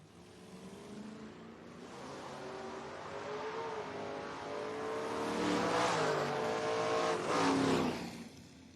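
A 1970 Mustang and a 1976 Aspen race down a drag strip at a footbrake bracket event, engines building from a distant rumble to a loud, rising roar as they pass close, then fading away.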